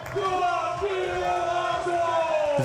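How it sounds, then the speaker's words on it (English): Spectators cheer and shout encouragement in the woods beside an XTERRA short track race course in the Czech Republic, a steady wash of voices with rising whoops and calls running through the whole stretch. "Very nice crowd cheering, and also in the woods."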